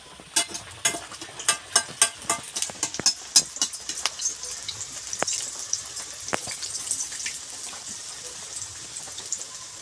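Bhature deep-frying in hot oil for chole bhature, opening with a run of sharp, close crackles and pops that settle into a quieter, steady sizzle.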